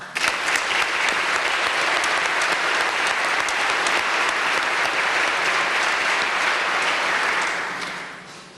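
A large audience at a police academy graduation ceremony breaks into sustained applause, a dense, even roar of clapping held steady for several seconds, then fading out toward the end.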